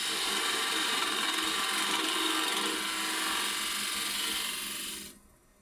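A wood lathe turns a small bud vase as a tool cuts, giving a loud, steady, close hissing scrape that runs continuously for about five seconds before stopping abruptly, with no talk.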